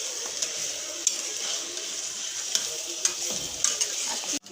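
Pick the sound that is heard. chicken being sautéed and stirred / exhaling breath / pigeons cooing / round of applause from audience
chicken being sautéed and stirred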